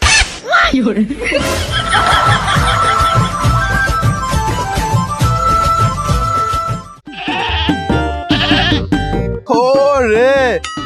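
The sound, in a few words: goats bleating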